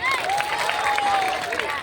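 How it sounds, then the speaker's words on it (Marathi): Audience applause after a dance performance at a high school event in Ghansoli: a dense, steady wash of clapping from a crowd, with a whistle-like tone gliding through it. "एकदा जोरदार टाळ्या होऊन जाऊ दे."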